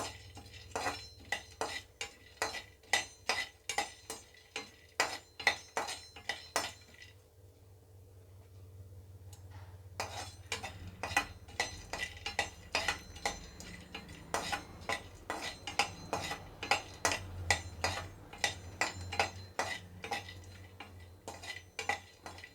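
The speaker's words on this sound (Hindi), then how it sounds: "अब ये सब सामान घी में भूनिएगा।" Dry fruits, nuts and fox nuts roasting in ghee in a pan, with steady metal-on-metal scraping and clinking as a spoon stirs, the rhythmic strokes pausing briefly partway through before resuming over a faint low hum.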